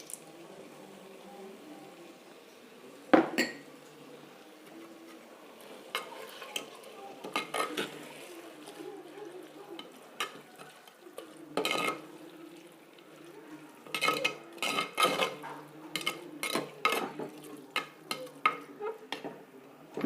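Curry being stirred in a pan after curd is added: a spoon scrapes and clinks against the metal in irregular bursts, growing busier toward the end, over a faint background with no talk.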